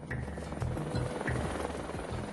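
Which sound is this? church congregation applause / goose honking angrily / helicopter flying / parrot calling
helicopter flying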